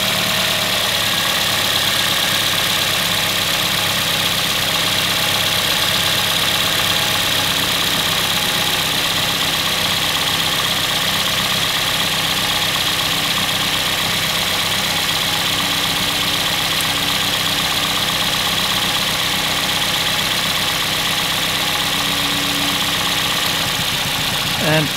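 A car engine idles steadily and loudly with an ignition coil disconnected, a constant mechanical drone with a slightly uneven, rough texture.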